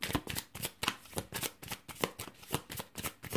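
Tarot cards are shuffled for a reading, giving close, quiet, rapid riffling flutters that repeat in a steady rhythm with no talking.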